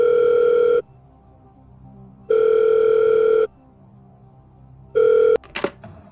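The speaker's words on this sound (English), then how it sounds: "through the magic of technology, we will phone your friend" A telephone ringback tone sounds in three long, loud, steady pulses separated by silent gaps, the last one cut short by a click and a brief rustle as the line is picked up.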